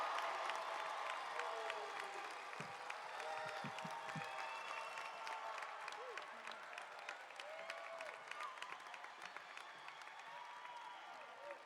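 Graduation crowd at the Whetstone High School class of 2023 ceremony applauding and cheering, sustained clapping with scattered whoops and shouts, distant and fairly quiet, steady for the whole stretch.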